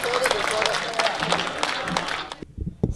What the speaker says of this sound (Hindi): सारा सदन जोरदार तालियां बजाएं